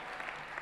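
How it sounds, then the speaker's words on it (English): Audience applause at a business conference session, heard as a brief, steady wash of clapping from a crowd. "So I want you to give yourselves a big round of applause, yeah?"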